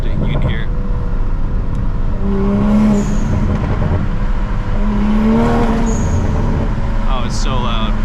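A 2020 Toyota Supra tuned past 500 wheel horsepower revs hard beside a wall at night, a loud, sustained engine drone rising and falling from inside the car, with a person talking over it.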